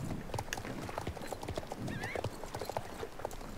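Horse hooves clip-clop steadily in the video game Star Stable Online, with a short high neigh partway through, all fairly quiet and alone.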